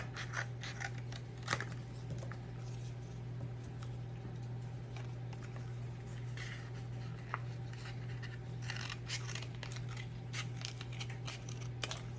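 Scissors snip through incense sticks with faint, scattered crisp cuts and small scratches over a steady low hum, quiet and close, no talking.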